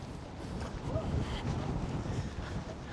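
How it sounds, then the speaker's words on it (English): Strong wind buffets the microphone outdoors near a churchyard in the Nottinghamshire countryside, a low, rumbling gusty roar rising and falling over a few seconds, with no talking. "It is very windy now, folks."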